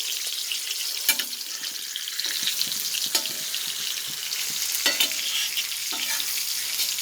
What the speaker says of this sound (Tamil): இந்த மாதிரி மீன் ரோஸ்ட்டு பண்ணும்போது தேங்காய் எண்ணெயில் செஞ்சால் டேஸ்ட் அருமையாக இருக்கும்.